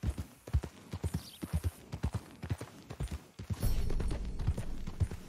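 Horse hooves in Red Dead Redemption 2 clip-clop in a steady, even rhythm at close range, with a rushing, windy backdrop swelling in the later seconds.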